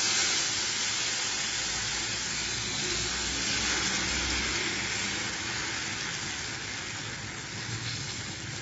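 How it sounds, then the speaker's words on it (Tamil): Pumpkin adai batter sizzles on a hot dosa pan, a steady, close, broadband hiss that holds evenly throughout with no talk. "இப்போ அடையை ஊற்றிக்கலாம் தோசைப்பல்ல"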